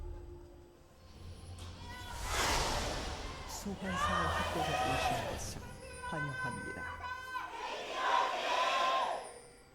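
A stadium crowd of esports fans at Soli Stadium cheers and yells for KT during an LCK match, loud swelling waves of voices rising and falling with shouts throughout.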